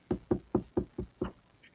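A DPD delivery driver knocks on a door with six sharp, evenly spaced raps in quick succession, close and clear, with no talk over them.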